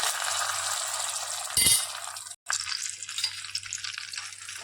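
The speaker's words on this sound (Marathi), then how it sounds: "आपण गूळ जो घेतलेला आहे चिरून तो आपण त्यामध्ये टाकणार आहोत" Chopped jaggery melting in a pan over a low gas flame for sesame laddoos, giving a soft, steady sizzle close up with a brief clink of a utensil partway through.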